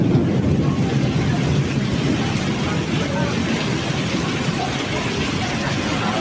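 Very heavy typhoon rain pours in a steady, dense roar with a strong low rumble, as if wind-driven, continuous and loud throughout with no voices.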